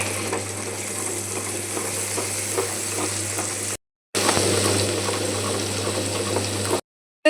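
Tomatoes sizzle in a hot pan for mung-bean sprout (matki) sambar, a steady close frying hiss with faint stirring clatter, twice broken by brief silent gaps.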